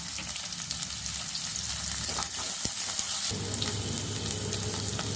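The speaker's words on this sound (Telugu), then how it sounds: "ఉల్లిపాయ పచ్చిమిర్చి ముక్కలు వేస్తున్నాను" Onion and green chilli pieces sizzle steadily in hot oil with cumin seeds, a continuous close frying hiss that swells louder partway through as the pieces settle into the pan; no talking.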